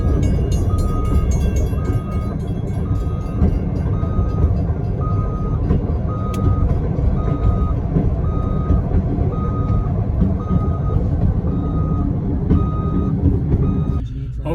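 A 1956 Pontiac Fairmont Hy-Railer backing up on rails sounds a steady, evenly spaced electronic reversing beep, repeating throughout over loud engine and rail rumble, while someone talks over it.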